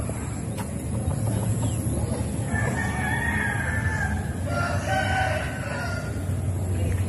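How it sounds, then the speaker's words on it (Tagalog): Two long roosters crows ring out over a noisy yard, with scattered chicken clucking in the background. "Ayan yung mga manok."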